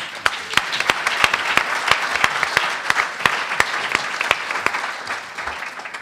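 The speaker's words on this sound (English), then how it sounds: "Let's give him another round of applause" An audience at a public policy panel event gives a round of applause, steady dense clapping with sharp individual claps standing out, fading slightly toward the end.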